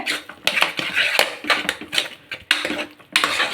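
A spoon scrapes and clinks against the metal of a pressure cooker while moong dal porridge is stirred and mixed, giving irregular close-up knocks and scrapes at a moderate volume.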